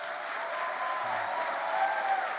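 Steady, full applause from a church congregation during a sermon, a dense continuous wash of many hands with faint voices and cheers mixed in.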